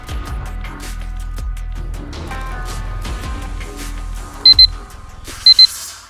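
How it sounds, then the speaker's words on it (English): Two short pairs of high electronic alarm beeps ring out near the end, heard over a steady low hum and background sounds from the game Frozen Synapse Prime. "You heard the alarm go off."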